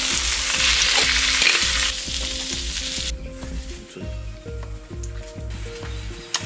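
Lobster sizzling in a hot pan with lemongrass, chili and garlic: loud, continuous frying crackle with rhythmic stirring scrapes and knocks, close up, steady throughout with no voices.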